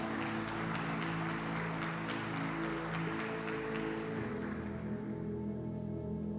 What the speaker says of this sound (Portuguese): Dá um aplauso para Jesus bem forte.